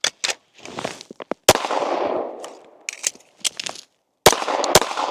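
Gunshots fired at a target during shooting practice, a handful of sharp cracks in uneven succession, loud and close, with brief rumbling echoes between them.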